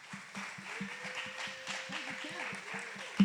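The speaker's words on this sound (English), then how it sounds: "Clap it up for them." An audience applauds panelists at the Sounds That Move Festival's music blog panel, a steady, moderately faint patter of clapping that runs the whole stretch while a voice talks over it.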